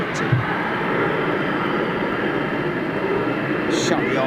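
A military jet at RAF Lakenheath roars on takeoff with afterburners lit, a loud, steady broadband thunder that fills the whole stretch while voices talk over it.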